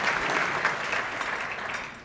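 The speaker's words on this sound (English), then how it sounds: "Please let's give them a round of applause." A room of attendees at a Williamson County Chamber of Commerce meeting clapping for new members, a steady, fairly close wash of applause that holds throughout and tapers slightly at the end.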